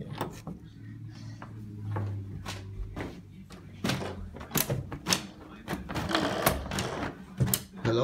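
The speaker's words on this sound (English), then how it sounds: "Open the washroom door." Washroom door in a home being opened, heard as clattering knocks and sharp thumps scattered among background household noise and faint voices.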